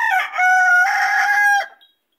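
A rooster gives one full, loud cock-a-doodle-doo close by. The crow is drawn out over about a second and a half, then stops cleanly into silence.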